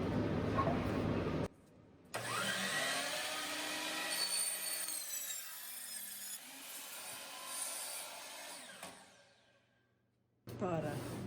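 A power saw cuts through a stack of shiplap boards in a living room makeover, a close whining rasp that rises and wavers over several seconds, with short quiet gaps before and after the cut.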